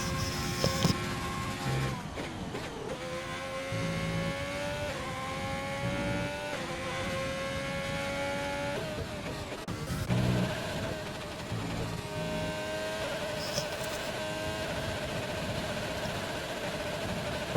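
F1 video game racing car engine with a rev glitch, buzzing at steady high revs with repeated pitch shifts and drops, loud and continuous throughout with no talk over it.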